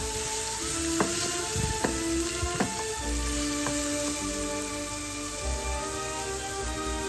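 Olives frying in a pan with a steady close sizzle throughout, and a few scattered scrapes and taps as they are stirred.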